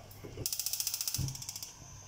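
A gas stove knob is turned up to full flame with a quick run of sharp clicks lasting over a second, close by against a faint background hum.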